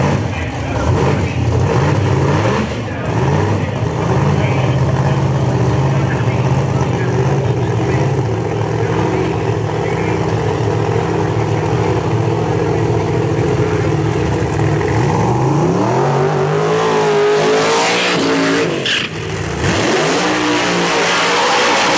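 Drag racing cars, one a screw-supercharged Mustang in the far lane, at a dragstrip, with a steady loud engine drone that swells to a sharp revving surge near the end, and an announcer talking over it throughout.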